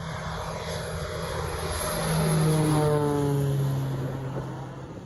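A Kodiak turboprop aircraft's engine spools up during a takeoff throttle advance, its steady drone swelling in loudness and rising tones climbing over about five seconds, then easing slightly, with no voices.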